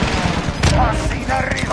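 Rapid bursts of gunfire hit around the player in a video game shooter, dense and loud throughout, with overlapping shots and impacts crowding the whole short stretch.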